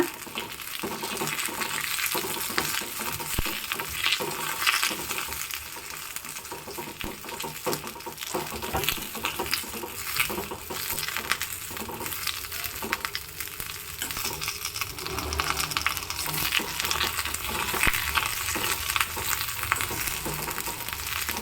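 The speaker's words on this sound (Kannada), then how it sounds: "ಈಗ ಇದನ್ನು ತುಪ್ಪದಲ್ಲಿ ಹಸಿ ವಾಸನೆ ಹೋಗೋವರಿಗೆ ಹುರ್ಕೊಂಡ್ರೆ ಸಾಕು" Big thyme leaves frying in ghee hiss and sizzle steadily up close, a dense crackling that holds fairly even for the whole stretch with no voices over it.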